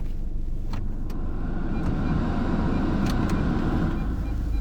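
A car backs up slowly during parallel parking practice, its low steady engine hum and road rumble continuous and close, with a few faint clicks above it and no talk.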